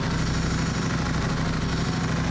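A motorcycle engine with a dry clutch idles close by with a steady, throbbing low rumble and even pulses throughout.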